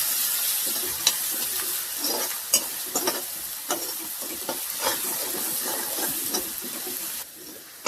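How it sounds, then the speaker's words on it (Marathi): Onion and ginger-garlic paste sautéing in a pan for palak chana, a loud continuous sizzle broken by frequent scraping stirs of the spatula, close and with no talk. "तर आता आपण यामध्ये अद्रक लसणाची पेस्ट टाकून घेऊया."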